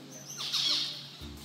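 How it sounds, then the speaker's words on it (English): A few faint, high chirps and tweets from songbirds in an aviary sound briefly over a quiet background in the morning. "The birds are up, awake, and they were singing"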